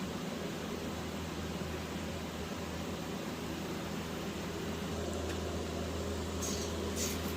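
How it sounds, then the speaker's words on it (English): The heater blower of a 1980 Camaro running hard, a loud, steady broadband rush of air with a low hum underneath, unchanging across the whole stretch. "Your heater's loud."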